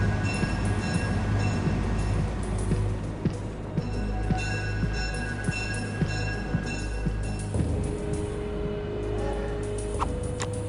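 In the Soldier of Fortune 2 game, a train at a railway station rumbles steadily with rhythmic wheel clatter on the rails, metallic squeals and some high tonal whines, loud and continuous throughout.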